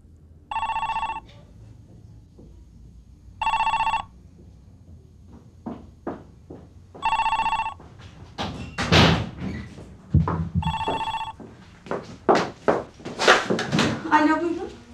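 A telephone bell rings in several short bursts that repeat at regular intervals, with clattering handling noises and knocks in between, like a door or cupboard. Voices can be heard in the background alongside it.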